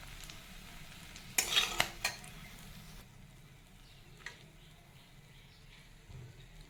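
Fried dried fish scooped from a pan into a bowl: a short burst of metal spatula scraping and clinking against the pan and dish, a couple of sharp knocks, then quiet low kitchen ambience.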